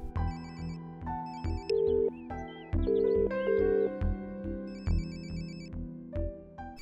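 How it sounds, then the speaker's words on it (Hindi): A phone ringtone repeats in a Hindi-dubbed Telugu action romance movie, a melodic electronic tune cycling steadily and loudly for the whole stretch with no voices over it. "रिंग जा रही है"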